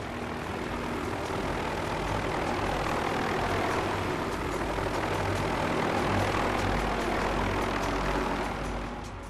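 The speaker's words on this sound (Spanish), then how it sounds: "De pronto oí un helicóptero" A helicopter flies close by over a volcano in zero visibility, giving a loud, steady engine and rotor drone that holds for the whole stretch with no voices.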